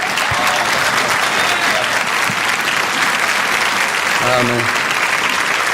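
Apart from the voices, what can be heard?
audience applause welcoming the pastor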